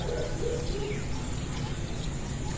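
Pigeons coo softly on a rooftop, low murmuring calls set under a steady broadband background hiss, faint and somewhat distant.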